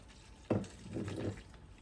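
White wine is poured into a blender jar as turkey marinade is prepared, a short soft splash followed by a second of gentle liquid gurgle, quiet and alone.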